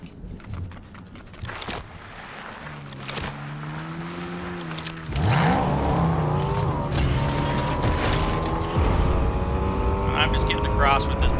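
A vehicle in the Fortnite video game starts up midway and drives off, a rising engine whine with shifting pitch and steady rumble, loud and close, with a voice talking over it.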